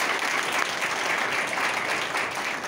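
Loud, dense applause from an audience honouring a senior club member at a degree college event, steady and continuous throughout with no talk over it.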